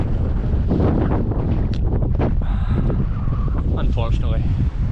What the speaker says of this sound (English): You can probably hear the wind blowing in.